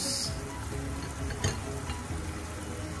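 Onion sizzling in a pan with shrimp and broccoli, a steady close frying hiss with occasional stirring scrapes and a soft knock midway.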